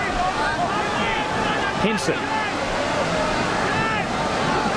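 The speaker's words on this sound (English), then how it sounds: "it's pouring down here at Cronulla now" Heavy rain pours down on an open-air rugby league stadium at Cronulla during a 1999 night match, a steady broadband hiss filling the clip beneath a commentator's voice and faint crowd noise.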